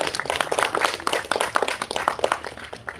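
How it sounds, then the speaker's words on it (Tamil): An audience claps at a live trailer launch for the series Exam, a steady ragged patter of many hands with sharp individual claps, sustained throughout without a clear start or end. "நல்ல கைத்தட்டல் கொடுக்கலாமே"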